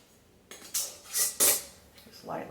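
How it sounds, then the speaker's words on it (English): Metal rings are lightly screwed onto glass canning jars by fingertip, giving a few close, bright metallic scrapes and clinks over a couple of seconds, with no speech. "anytime that you tighten these rings, it's fingertip tight"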